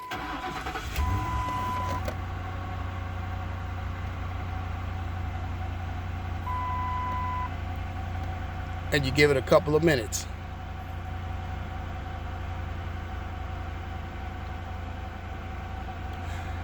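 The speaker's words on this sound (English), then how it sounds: "All right, let's start the car." A 2003 Lincoln Town Car with a swapped alternator cranks and catches, then settles into a steady low idle that runs throughout, with someone talking over it and a brief clatter partway through.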